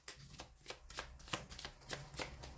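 A deck of playing cards is shuffled in a quick run of crisp riffling flutters, close and fairly quiet, with no voices.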